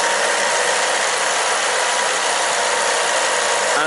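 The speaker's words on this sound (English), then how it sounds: "And engine must be running all time." Car or pickup truck engine idling steadily during a coolant refill, a constant loud broadband hiss-like hum with no change in pitch, close and unbroken.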